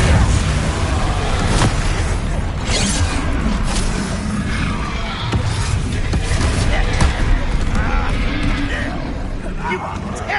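Depulso spell cast in Hogwarts Legacy during combat, a dense, loud stretch of booming blasts, whooshes and bursts, with a voice speaking over the battle noise.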